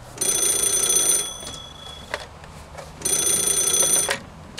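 A telephone rings in two bright, electronic bursts about a second long each, separated by a pause, heard indoors at moderate volume with soft background noise and no talk.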